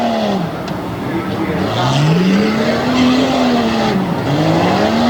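A race car driven hard at Hagerstown in 2022, its engine roaring close by and sweeping up and down in pitch as it pushes onto the front stretch and through a corner, with a faint squeal of tires.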